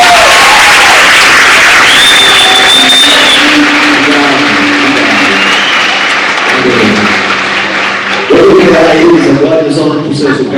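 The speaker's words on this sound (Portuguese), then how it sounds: "Agora pode aplaudir?" A church congregation applauds with a steady wash of clapping across the whole stretch, mixed with crowd murmur and voices, and the sound swells louder near the end.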